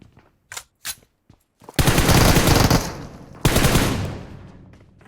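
Bursts of M4 rifle fire in the battle royale game PUBG Mobile: a few short single shots, then two loud, sustained automatic volleys close by, the second trailing off.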